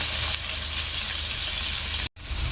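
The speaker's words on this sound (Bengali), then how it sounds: "জিরে গুঁড়ো হলুদ গুঁড়ো লঙ্কা গুঁড়ো আর নুন আবার আমি দু মিনিট কষিয়ে নেব" Ground spices and salt sizzle in a hot pan for prawn masala, a dense steady frying hiss heard close up, broken by a brief cut near the end.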